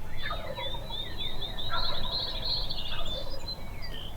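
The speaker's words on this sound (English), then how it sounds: "as you can hear, that tom is just up on top of the ridge" A wild turkey tom gobbles at a distance from a ridge top in rapid rattling bursts, faint over steady outdoor background noise and scattered bird chirps.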